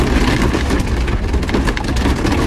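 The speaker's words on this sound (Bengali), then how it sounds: "বড় বড় ফোঁটায় বৃষ্টি নেমেছে" Heavy rain of big drops pours down on a trip through Purulia, a loud dense continuous roar with steady hiss throughout and no voices.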